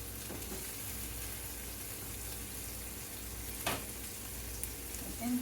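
An egg and spread-out food sizzle in a skillet, a steady, even crackle of frying with a few soft stirring clicks near the end.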